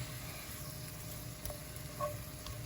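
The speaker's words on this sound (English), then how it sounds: "so just really going to be lightly cooking these" Greens cook lightly in a pan with a quiet, even sizzle and a few soft clicks of a utensil.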